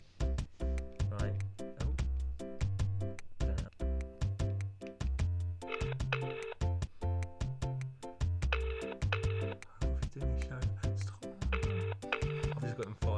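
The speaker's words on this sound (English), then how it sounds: "his phone keeps ringing" A synthetic, musical ringtone plays repeatedly in a looping electronic melody with a rhythmic beat, fairly loud and close, with no talking over it.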